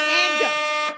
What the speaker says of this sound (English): We're getting air horns right here